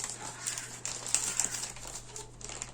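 A plastic package bag crinkles during a parcel unboxing, with close, irregular rustling bursts over a faint steady hum.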